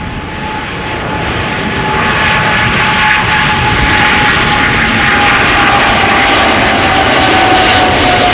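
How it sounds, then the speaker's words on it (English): KLM flight 735's jet engines roar loud and close at Amsterdam Schiphol Airport, a powerful broadband rumble with a steady high whine, swelling over the first two seconds and then holding strong. "This is KLM flight 735"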